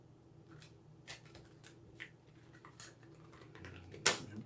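Small tarot cards handled and shuffled close up, with quiet light flicks and soft papery taps spread across the moment and a sharper snap near the end.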